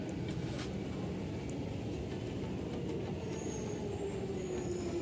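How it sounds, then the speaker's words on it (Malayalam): A London Underground tube train pulls away from the platform with a continuous low rumble, faint wheel squeal rising and sliding in pitch toward the end, and no voices over it. "ഇവിടെ ഒരു ട്രെയിൻ പുറപ്പെട്ട് കഴിഞ്ഞു"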